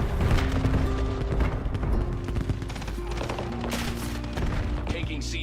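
The Gravemaker weapon fires in a video game, giving repeated heavy booming thuds and crackling blasts over a rumbling low bed, while people talk over the action.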